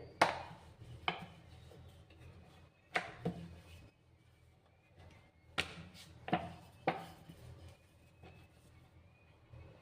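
Spinach paratha dough is worked on a board with a rolling pin, with sharp wooden knocks and taps in small clusters over quiet gaps, close and fairly soft.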